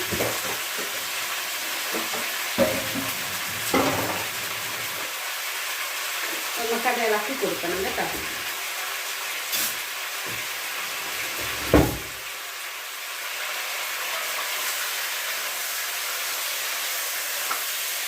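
Ingredients for Chinese chilli chicken fry in a pan, with a continuous sizzle and occasional clanks and scrapes as they are stirred, while someone talks over the cooking.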